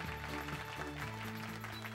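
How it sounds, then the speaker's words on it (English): Audience applause for beauty pageant contestants at a Miss Magix contest, sounding as a steady dense wash of clapping that stays even and continuous for the whole short stretch, with a musical fanfare underneath. "A warm round of applause for all our contestants"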